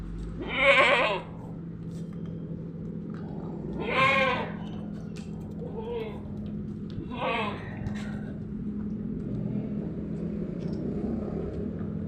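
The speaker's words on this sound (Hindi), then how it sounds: "बहुत हैवी वेट की बकरी है" A heavy goat of about 70-80 kg bleats four times at irregular intervals, wavering cries standing out over a low steady hum of background noise.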